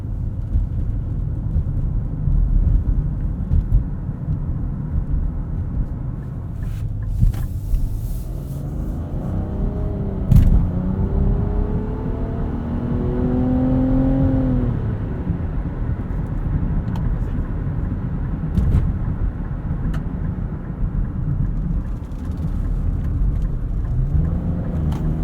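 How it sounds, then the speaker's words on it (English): The engine of a 2023 Nissan Rogue AWD Midnight Edition crossover runs on a night drive, a continuous low rumble with road noise, briefly rising in pitch midway as it accelerates, with a few small clicks inside the cabin. "Pretty fuel efficient power plant, decent amount of power, and kind of sounds like a baby V6."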